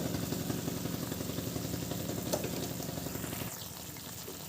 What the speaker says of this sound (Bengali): এটাকে ভালোভাবে সুন্দর করে কষিয়ে নেব